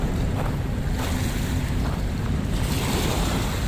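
Ocean waves at high tide on Dolomite Beach along Manila Bay, a steady, loud wash of surf mixed with wind buffeting the microphone, continuous throughout with no voices.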